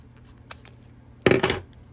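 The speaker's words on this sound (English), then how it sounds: "want to cut the piece of stabilizer" Scissors cutting a piece of embroidery stabilizer, a faint snip early on, then one brief, crisp crunching cut, close and otherwise quiet.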